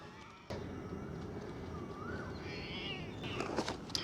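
A few cats in a Bangkok park meow while waiting to be fed in the early morning, a high wavering call standing out over soft outdoor background noise, fairly close, with no speech.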